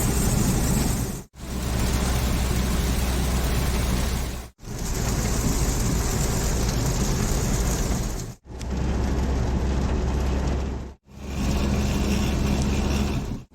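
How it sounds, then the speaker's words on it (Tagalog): Heavy typhoon rain pounds a moving car in a dense, loud roar, broken by several abrupt cuts, with low engine rumble underneath and no voices. "Grabe yung ulan, sobrang lakas."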